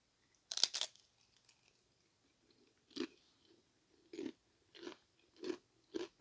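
Crunchy tortilla chips are bitten and chewed close to the mic, with a sharp crunch followed by about five softer, evenly spaced crunching chews in a quiet room.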